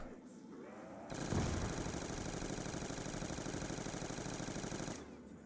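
Rapid automatic gunfire from a weapon in Call of Duty Zombies, a loud, dense stream of shots lasting about four seconds, with quieter game ambience before and after.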